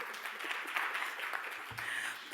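Audience applauding at a business school panel session in South Africa, a steady wash of many hands clapping for a couple of seconds with no talk over it.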